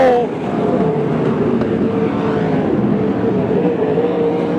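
Loud sprint car engines roar steadily and close by on a speedway, a continuous growling drone with faint crowd or commentary noise beneath.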